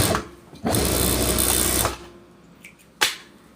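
A sewing machine in a tailoring shop gives a loud, close whirring run of just over a second, followed by a sharp mechanical click.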